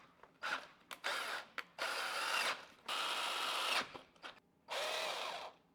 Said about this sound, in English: to drill straight down